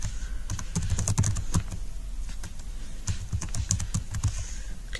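Typing on a computer keyboard while entering a search in a library catalogue, a quick run of crisp key clicks in bursts with short pauses, close and clear, with no one talking.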